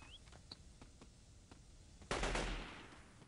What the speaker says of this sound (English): Apparently somebody is still up there shooting at somebody.